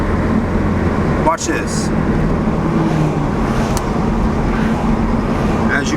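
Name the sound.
BMW Z4 car driving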